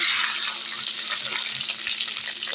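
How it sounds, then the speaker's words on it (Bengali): A little water added to a pan of hot fried onions, giving a loud, steady rushing hiss that fades only slightly over a couple of seconds, with no talking. "আমার পেঁয়াজটা গরম হয়ে গেছে, আমি এখন অল্প একটু পানি দিয়ে দিব"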